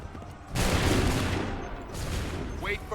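Musket volley from Assassin's Creed 3, a loud simultaneous burst of shots crashing out and trailing off, then a second quieter volley, with a shouted voice near the end.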